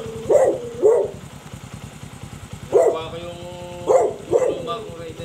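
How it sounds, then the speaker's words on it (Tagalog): A large dog at a gate gives a few loud close barks and yips in short bursts, with people talking and an engine idling underneath. "Ayan ang magandang aso, tineterno sa gate."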